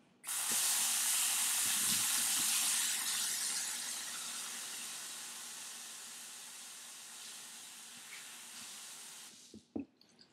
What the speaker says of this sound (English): So the first step is to wash our hands.